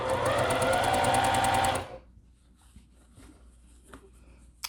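A sewing machine stitches fabric for a scrunchie, a fast, loud, even rattle for about two seconds that then stops, leaving faint handling rustles.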